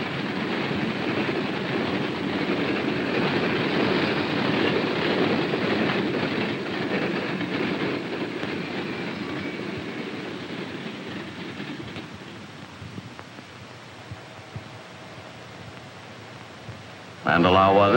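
Train running along a single-track main line in a 1954 railway scene, a steady rumbling roar with rhythmic clatter that fades over time, then an abrupt loud burst at the very end, with narration over it.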